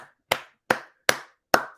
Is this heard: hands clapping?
yes